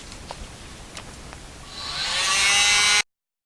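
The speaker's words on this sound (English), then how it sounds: "I'm going to do the next one with my little mini blower" A small electric mini blower aimed at metallic paint on a small canvas whirs up quickly to a loud, high whine, then cuts off abruptly.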